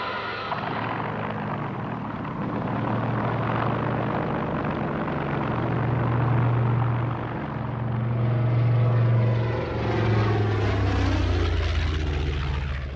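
Engines of WWII Allied bombers flying over Tunisia make a loud, continuous droning roar that swells and fades slightly, with no talking.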